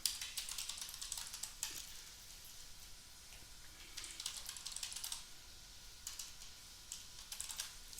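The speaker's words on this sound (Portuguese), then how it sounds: "Vou digitar aqui filial." Quiet, close keystrokes on a computer keyboard in rapid bursts with brief pauses between them, soft and steady throughout.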